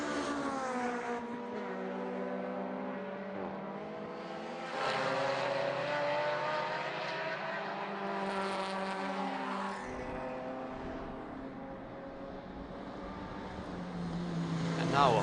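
Race cars, including a Porsche, roar past on a circuit during a two-hour endurance race, engines droning steadily with rising and falling pitch as they pass and shift gears, under a commentator's voice.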